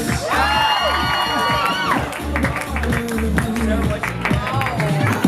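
A large crowd at a 2019 teen gala cheers and claps loudly and continuously, with whoops and shouting mixed into the sustained applause and voices talking over it.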